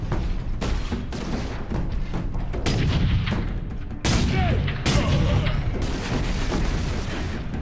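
Dense, continuous gunfire and explosive booms fill a Warhammer 40,000: Space Marine battle, loud and layered, with sharp blasts standing out over the steady barrage.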